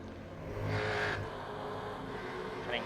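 Supercars race through a chicane at Oran Park Raceway in iRacing, engines rising and falling as the cars brake and accelerate, with a faint whine and a passing sweep, fairly quiet.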